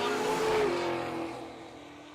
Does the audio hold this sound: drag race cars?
yes